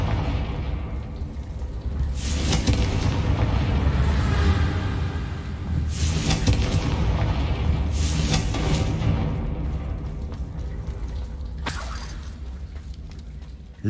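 The Confringo fire spell from Hogwarts Legacy bursts in a series of booming blasts, each with a sharp crack and a rumbling tail, over steady game background noise and with no talk.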